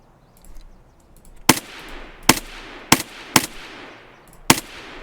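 Five loud, sharp sniper rifle shots crack out in a video game, irregularly spaced over a few seconds, each with a short echoing tail over quiet background ambience.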